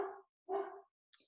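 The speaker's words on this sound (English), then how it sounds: "It's my dog barking." Two quick, faint barks from a dog in the background, short and close together, followed by a brief high squeak, all quiet and distant.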